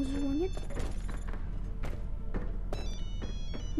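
In the video game Zombie Stories, a telephone rings in short repeated electronic bursts over game background sounds, with a few thumps in between.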